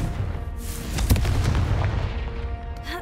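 Confringo blasting spell explosion in Hogwarts Legacy, a sharp loud boom about a second in with crackling debris and a rumbling tail, preceded and followed by lighter magical whooshes and a faint chime near the end.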